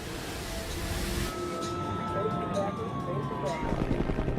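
An ambulance siren wails and slowly falls in pitch over a rumbling, noisy background at an airliner crash site, heard from a moderate distance.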